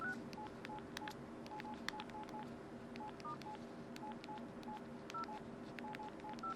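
Touch-tone key beeps from the keypad of a Nokia 7705 Twist phone on Verizon, a steady run of short, evenly paced tones pressed one after another, close and clear over a faint background hum.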